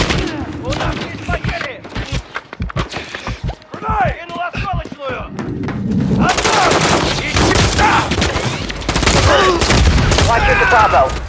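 Call of Duty: Modern Warfare 3 combat on the Highrise mission: dense bursts of loud gunfire and booms, building into a sustained heavy barrage in the second half, with radio voices talking over the shooting.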